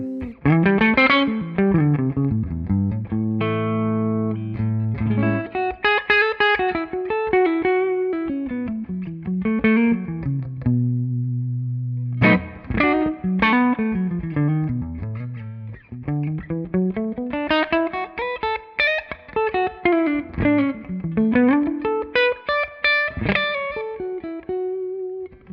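An electric guitar on its neck pickup plays through a clean Mini JTM45 amp tone, continuous melodic lines with sliding runs and held chords, loud and close for the whole stretch.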